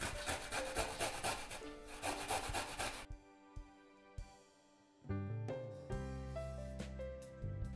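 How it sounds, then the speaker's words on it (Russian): Garlic is rubbed against a fine grater in close, raspy strokes, with a brief pause partway through before the scraping resumes. "Чеснок натру на мелкой терке."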